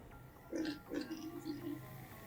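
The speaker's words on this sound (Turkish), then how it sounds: "İki başlı domuz." A two-headed pig in a video game gives a few short, grunting oinks in quick succession, moderately loud over a low background hum.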